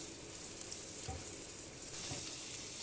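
Crushed ginger and garlic fry in hot oil in a pan, a soft steady sizzle with faint stirring scrapes, fairly quiet and alone.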